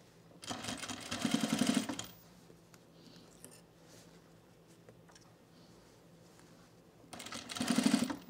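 A sewing machine stitching fabric on a men's utility jacket cuff, with two quick, close bursts of rapid stitching separated by several seconds of quiet handling.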